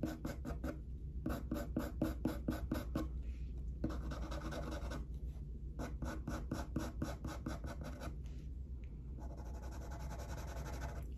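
Coloured pencil scratching across paper while a base colour is blocked in, with quick repeated scribbling strokes broken by short pauses, close and soft, with no voices.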